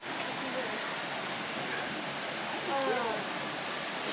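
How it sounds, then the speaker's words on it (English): Latourell Falls, a 249-foot single-drop waterfall in Guy W. Talbot State Park, heard as a steady soft broadband roar of falling water at a distance, faint and unbroken, with a brief faint voice partway through. "Latourell Falls is a stunning 249-foot single-drop waterfall"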